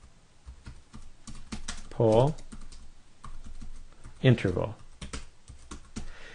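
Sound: typing on a computer keyboard

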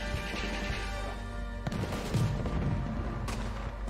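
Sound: gunshots in Red Dead Redemption 2 video game

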